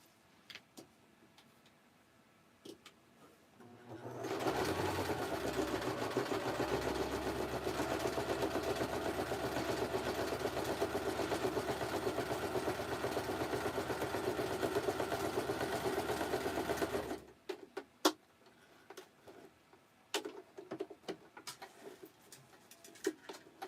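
A sewing machine stitches in one steady, continuous run of about thirteen seconds, its motor whirring with a rapid mechanical rattle close by, then stops abruptly, leaving faint clicks and quiet room sound.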